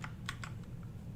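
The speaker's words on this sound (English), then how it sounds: "Heard my keyboard clacking right there." A computer keyboard clacks in a few quick, close keystrokes, sharp clicks over a faint steady hum in a quiet room.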